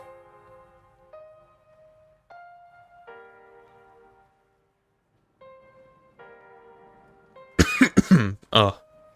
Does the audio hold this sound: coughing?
yes